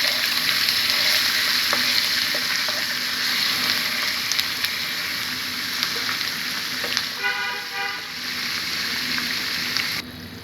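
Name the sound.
frying ginger, garlic, cumin paste and turmeric in pan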